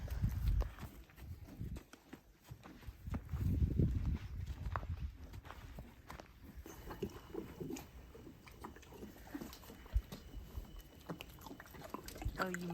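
Mare Zara's hooves clop and thud in a few scattered, close steps as she walks into her stall, with chewing and shuffling noises between the steps.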